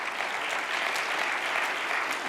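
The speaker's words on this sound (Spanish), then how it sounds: "¿Le puede dar un fuerte aplauso al Señor?" Steady applause from a church congregation during a Spanish-language sermon, a dense, even wash of many hands clapping at moderate volume throughout.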